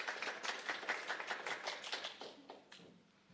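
Applause from the audience for the girls at a 4-H fashion show at a county fair, a fairly quiet patter of clapping that thins out and fades toward the end.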